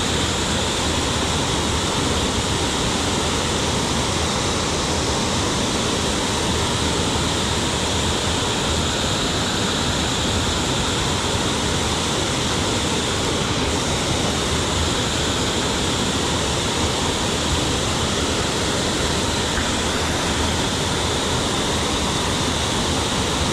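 Steady, loud rush of a wild mountain trout stream flowing over rocks, a continuous broadband roar without pause or voices.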